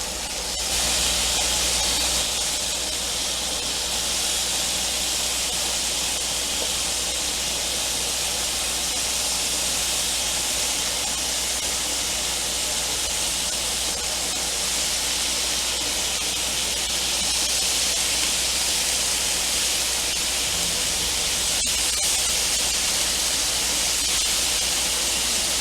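Chicken satay skewers sizzle on a hot griddle after being turned, a steady loud hiss that holds unbroken throughout with no voices.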